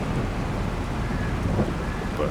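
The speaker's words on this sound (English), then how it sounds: "Hopefully this rain doesn't last longer" Steady rain hisses without pause over a grape harvest field, a dense, even wash of drops that stays at one loudness throughout.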